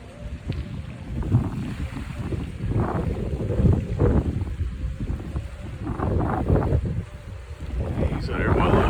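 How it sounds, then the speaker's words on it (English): Strong wind of around fifteen miles an hour buffets the microphone at the foot of a high-rise building, a loud continuous roaring rush with gusting swells throughout. "Wind blowing down here at least 15 miles an hour where I'm standing."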